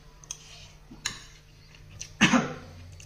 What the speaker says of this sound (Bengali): কাশি আসতেছে কেন জানি না